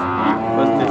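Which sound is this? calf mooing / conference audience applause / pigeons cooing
calf mooing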